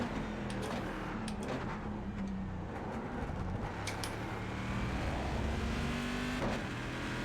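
A GT1 race car engine, Corvette or Aston Martin, in a sim racing game at Road America, droning and revving steadily up and down throughout with tire and gear sounds, and no talking.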